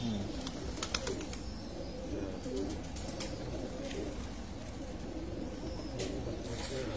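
Pigeons coo in a rooftop loft, soft repeated low throaty calls layered under a steady outdoor hum, with faint clicks and wing or foot taps scattered through.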